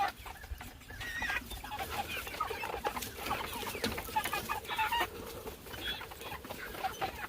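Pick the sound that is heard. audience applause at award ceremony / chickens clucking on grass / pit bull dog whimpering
chickens clucking on grass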